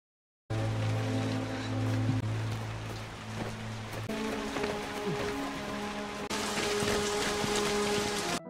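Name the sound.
rain falling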